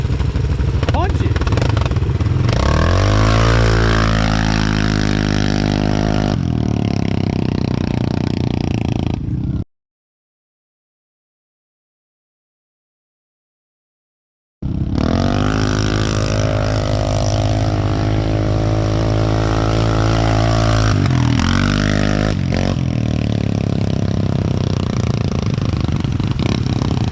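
A CFMOTO vehicle fitted with a new clutch kit and new helix launches hard, its engine loud and close and climbing in pitch. It cuts out for several seconds of silence, then revs hard again while people talk over it.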